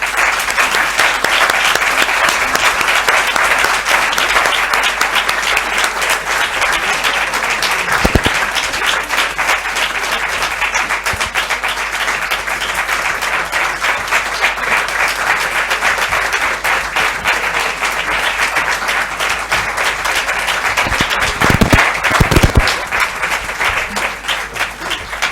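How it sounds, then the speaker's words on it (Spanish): A concert audience gives long, sustained applause welcoming the performers, a loud, dense and steady wash of many hands lasting about twenty-five seconds, with a few louder thumps near the end. "Para todos ellos, bienvenidos y un fuerte aplauso"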